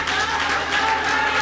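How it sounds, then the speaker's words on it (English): A church congregation claps for the preacher at an anniversary worship service, producing a continuous, moderately loud wash of clapping without pause. "let's give the preacher a great hand as well"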